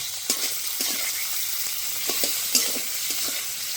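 Bone-in and minced chicken meat frying in oil in a pan, a steady close sizzle broken by regular scraping stirs of a spatula, with no voices.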